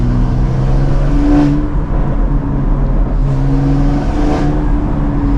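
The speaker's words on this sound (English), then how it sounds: "If I go into sport, you'll notice it gives slight burbles." A stage 2+ tuned BMW X3 M engine in sport mode revs twice in quick rises, with a low rumbling exhaust and faint burbling underneath, close and fairly loud.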